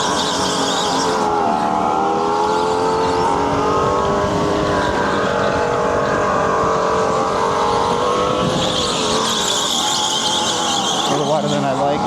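A supercharged league go-kart laps an indoor track in Edison, NJ, its engine whining loud and steady from on board, pitch sliding up and down through corners, with faint tire squeal and a driver talking over it.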